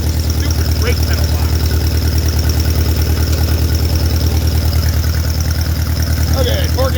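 An old Allis-Chalmers tractor engine runs steadily, a loud, close, rhythmic low chug with constant vibration throughout, and faint chirps drifting in over it.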